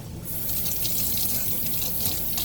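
Tap water runs steadily into a sink during cleaning of a dental essix tray, a continuous close hiss and splash that starts abruptly and holds at a constant loud level with no talk.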